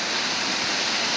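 Waterfall in Kanchanaburi, Thailand, heard as a dense, steady rushing roar of falling water, loud and close, with no other sounds over it.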